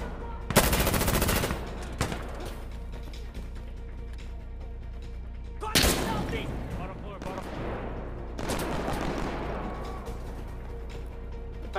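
Gunfire in the tactical shooter Insurgency Sandstorm: several sharp, loud bursts of rapid shots with quieter stretches between them, ending in rumbling volleys.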